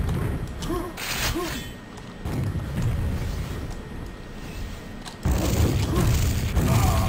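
Weapon fire and explosions in the QuakeWorld video game, played on the ZTNDM3 map: repeated heavy booms and blasts over steady game ambience, with a loud burst starting partway through, no talking.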